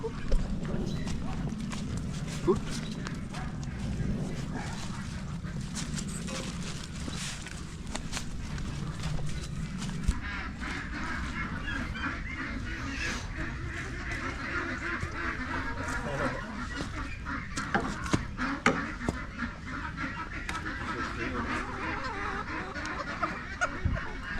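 Ducks and geese on a farm at feeding time make a continuous chorus of quacks and honks with scattered clattering footsteps, moderately near, with occasional voices mixed in.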